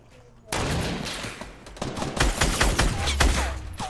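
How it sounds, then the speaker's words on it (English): Sudden gunfire erupts in Fortnite Battle Royale, a sustained clatter of close shots with heavier thumps building toward the end, while a player talks over it. "Oh, they're shooting at me."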